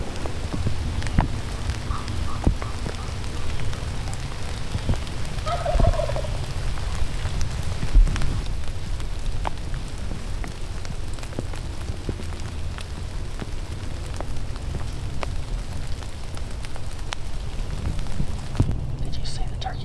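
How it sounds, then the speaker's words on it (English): Rain falls steadily outdoors during a lightning storm on Texas public land, making a constant close hiss and patter, with a faint distant turkey gobble and a few soft voices talking quietly. "We've been sitting in the rain and lightning storm for the last hour or so"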